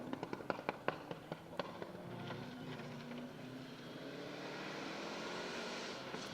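A Subaru rally car on a Welsh Rally Championship stage fires a quick series of sharp pops and bangs, then settles into a sustained engine rumble passing at a distance, with no talk over it.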